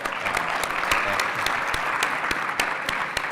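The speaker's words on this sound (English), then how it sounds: "You wouldn't be applauding if you heard my time" Conference audience applauding steadily for a speaker at a retail industry event, dense clapping close and loud from start to finish with no talk over it.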